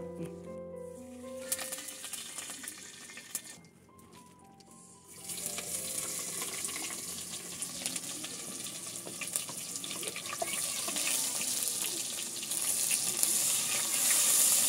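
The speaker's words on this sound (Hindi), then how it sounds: "तेल में प्याज को मिला लिया है" Onions fry in oil in a pan in an African village kitchen: a dense hissing sizzle that starts after a quieter stretch and grows steadily louder, with faint birdsong in the background.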